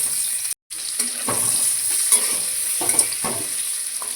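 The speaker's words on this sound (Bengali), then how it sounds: "মাছগুলো ভাজা হয়ে গেছে, ওই তেলে এবার আলুগুলো ভেজে নেব" Potatoes fry in oil left over from frying fish, giving a continuous sizzle broken by a few stirring scrapes and bursts of spattering. The hiss is loud and close, with a short cut near the start and no talking.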